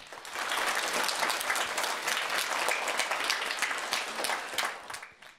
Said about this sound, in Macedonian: Ајде уште еден аплауз.